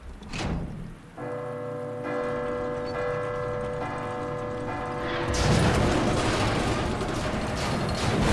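A church bell tolls in Resident Evil 2, its sustained ringing tones holding steady for several seconds before giving way to loud, dense rain-like noise.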